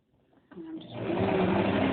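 A sewing machine starts up and runs steadily, stitching fabric for a tote bag with a close, even mechanical whir that builds after a brief quiet start.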